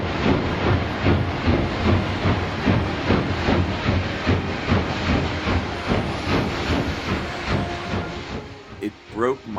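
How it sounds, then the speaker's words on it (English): Hissing steam and rhythmic chuffing as a steam train gets underway, dense and loud, with rattling wagons and a brief whistle near the end. "the train gave a sudden lurch and started moving."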